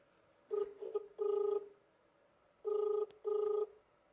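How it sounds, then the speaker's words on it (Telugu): Ringback tone of an outgoing mobile phone call, two clear double rings separated by a pause, steady and fairly loud with no talk over them. "ఒకసారి ఫోన్ చేసే ప్రయత్నం చేద్దాము ఈ మగ ఆయనకి."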